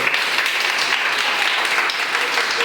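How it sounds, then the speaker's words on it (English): A crowd applauding, dense continuous clapping at moderate volume that holds steady throughout. "Give a huge round of applause."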